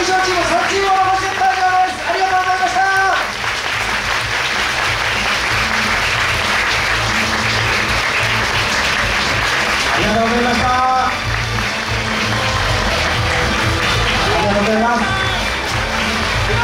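Sustained applause from the audience at a university idol dance competition's results announcement fills the space throughout, while an announcer speaks in Japanese over it at the beginning and again near the end.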